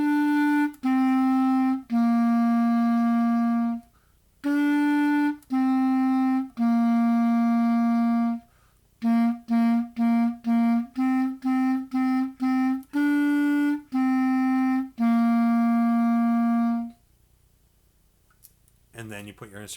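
A beginner clarinet plays a simple first song, sustaining clear tones in short phrases with brief gaps between notes, loud and close, followed by a short stretch of quiet at the end.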